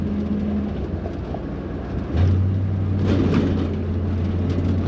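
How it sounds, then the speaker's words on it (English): A 1956 Chrysler Windsor wagon's 354 Hemi V8 idles with a low, steady hum inside the cabin, its pitch stepping up partway through and holding there. "Engine sounds great."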